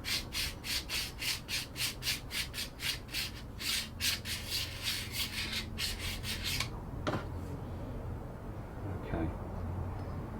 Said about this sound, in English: the plate that we're using for deburring is flat against the chisel